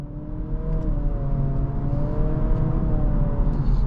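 A 2025 Acura Integra A-Spec with a CVT revs steadily as it accelerates, a sustained rising whine over a low, constant rumble from inside the cabin.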